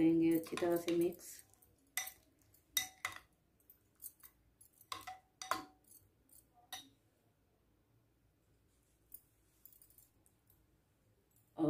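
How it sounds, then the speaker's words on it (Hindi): A spoon mixes cucumber, coriander and chillies into yogurt raita in a bowl. Sparse, close clinks and scrapes come in short bursts between quiet stretches, with a busier clatter at the start. "ये तमाम चीज़ें डाल के हम इसको करेंगे अच्छी तरह से मिक्स।"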